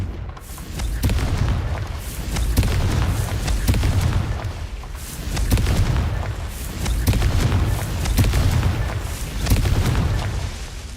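Repeated booming blasts from the Confringo spell in the video game Hogwarts Legacy go off one after another, loud and rolling, with about five heavy explosions.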